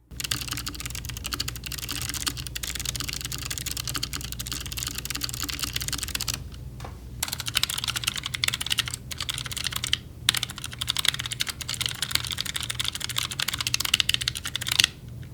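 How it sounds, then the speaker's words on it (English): Rapid, steady typing comes from a DREVO Joyeuse V2 mechanical keyboard with tactile white switches. The key clicks are close and fairly loud, with a couple of short pauses and no voices. "they are white switches, and they have a very nice tactile bump and sound to them"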